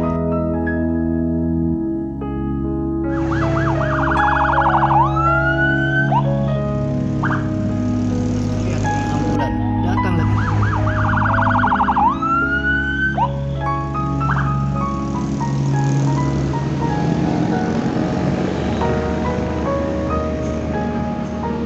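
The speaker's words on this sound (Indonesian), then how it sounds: "ambulan datang lagi" A COVID ambulance siren wails, rising and falling in repeated sweeps over steady traffic noise, loud and fairly close, in Gedebage, Indonesia.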